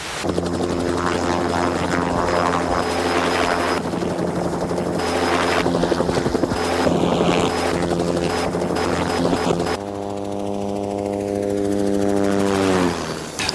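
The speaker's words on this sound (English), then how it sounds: "This is the machine I fly, a helicopter." An Army National Guard helicopter's rotor chops steadily and loudly overhead in flight, a continuous whirring drone that shifts pitch near the end as the turbine whine changes.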